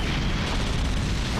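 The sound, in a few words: generator being destroyed in a Godzilla video game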